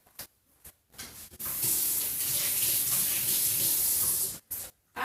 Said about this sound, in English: I'm getting some water.